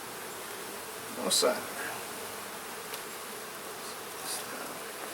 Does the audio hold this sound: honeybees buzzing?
yes